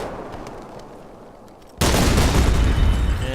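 Half-track firing its main guns in the war game Combat Mission, quiet ambience broken by an abrupt loud gun blast followed by sustained booming fire and rumble.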